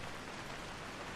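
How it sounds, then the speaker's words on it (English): Steady, soft rainfall hissing evenly, a continuous wash of drops with no other sounds. "the sound of rain"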